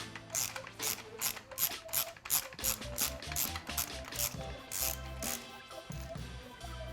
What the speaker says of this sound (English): And take a 14mm socket, extended socket,